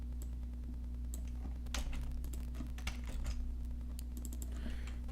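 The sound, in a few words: typing code on a computer keyboard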